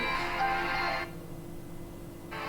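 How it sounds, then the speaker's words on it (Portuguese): A phone rings partway through a livestream, its electronic tone steady and fairly loud for about a second, then falling away before picking up again near the end. "que estão me ligando na hora da live"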